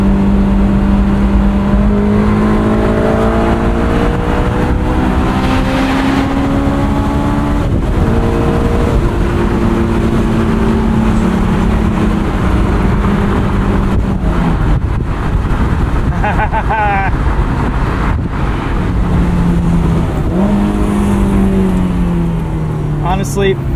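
A low-mileage 2003 Honda S2000 engine pulls through the gears while driving, its tone rising and falling with each shift over constant road and wind noise, loud and close from the cabin.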